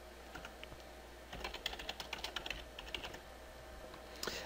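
A computer keyboard being typed on as a password is entered during an administrator logon for an AX 2012 email setup, a quick run of soft close key clicks that starts after a second of quiet room hiss.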